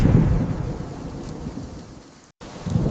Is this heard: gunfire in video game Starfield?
no